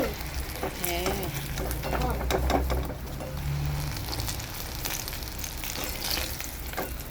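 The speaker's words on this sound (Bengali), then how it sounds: "বেগুন ভাজছো?" Eggplant slices sizzle steadily in hot oil in a pan, a close, continuous frying hiss throughout, with brief conversation and a short reply heard over it early on.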